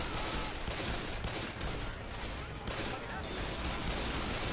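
Gunfire in the zombie shooter game Left 4 Dead, dense rapid bursts of automatic shots rattling almost continuously and loud, with brief dips between volleys.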